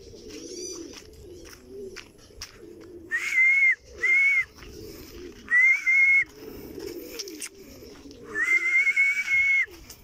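Racing pigeons coo softly and continuously at the loft as birds arrive during a derby race. Several loud, sustained high whistling tones cut in at intervals.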